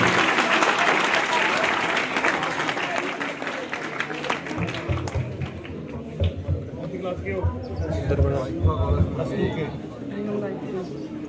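Applause from a school maths fair audience greeting the village sarpanch and his companions, a dense roar of clapping that thins after a few seconds into scattered claps with chatter and speech over it.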